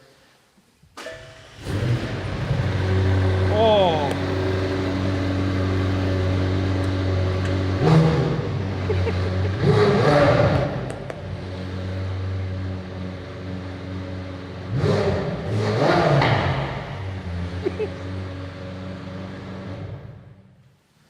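McLaren Senna LM engine idling then revving hard in several loud surges close by, settling back to a deep burble between blips, with a brief exclamation from a person nearby.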